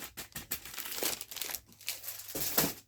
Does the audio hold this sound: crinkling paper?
yes